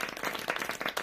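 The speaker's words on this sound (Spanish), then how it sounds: "Dadme un aplauso si estáis viendo la presentación para que yo pueda escucharos." Audience applause at a live sales presentation on AI agents, a short burst of quick, fairly faint clapping from a crowd.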